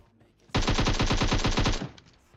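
A burst of rapid gunfire in PUBG Mobile from a shotgun: about a dozen evenly spaced loud reports crowd into just over a second, then cut off with a faint tail and no talking.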